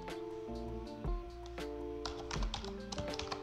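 Typing on a computer keyboard on a Windows 11 machine produces a quick series of close, light key taps over a low steady background hum.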